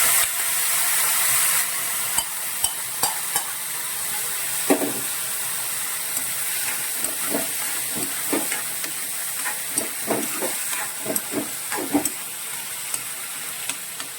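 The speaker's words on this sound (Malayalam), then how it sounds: "ഇനി നമുക്കിതിലേക്ക് നമ്മൾ പറ്റിച്ച് വെച്ചിരിക്കുന്ന ചെമ്മീൻ ഇട്ട് കൊടുക്കാം" Shrimp frying in a pan for Kerala shrimp thoran, a loud continuous sizzle close up with frequent sharp crackles and stirring clicks throughout, no talking.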